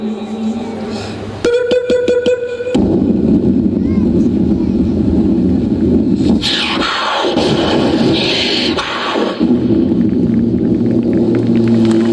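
A voice imitates an Indian Airlines jet airliner, a loud sustained roaring rumble with rising whooshes that carries on for several seconds after a short buzzy start.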